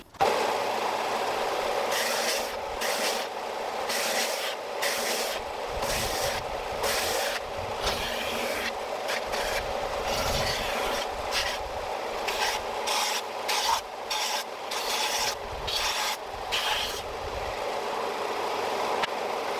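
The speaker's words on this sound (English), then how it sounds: "But the first thing I need to do then is sand them down." Pallet wood planks being sanded down for a DIY picket fence project, a steady rasping rub that runs continuously, close and fairly loud, with rhythmic strokes and no talking.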